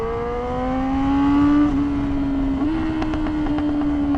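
A Yamaha R6 inline-four sport bike engine revs steadily with a strong rising whine, dipping briefly and then climbing again. It sits close and loud and runs alone without any talk, with some sharp clicks near the end.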